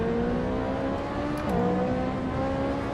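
Race car engine in Assetto Corsa held near the rev limit, a steady high-pitched drone that dips briefly at a gear change and then climbs again, loud and continuous with no talking.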